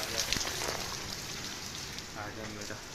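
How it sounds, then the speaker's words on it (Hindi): Steady rain falls in Kashmir, a continuous hiss with scattered drops tapping on surfaces, heard at a moderate level while someone talks briefly over it. "अभी बारिश पता नहीं कब तक हुई है।"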